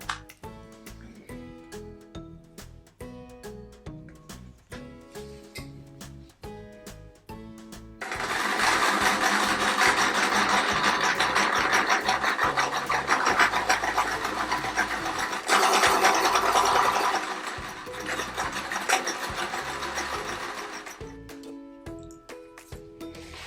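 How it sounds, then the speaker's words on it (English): Sewing machine stitching pressed quarter pieces of a patchwork quilt, running in a loud steady whir for about half the time, with a short pause inside it and quieter stretches before and after. "So they're all pressed and ready to stitch."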